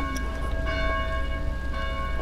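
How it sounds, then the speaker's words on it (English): Bells ringing in the video game Dead Island, sustained metallic tolling tones that sound loud and steady throughout with no talk over them. "Everybody's covering their ears because their bells are ringing."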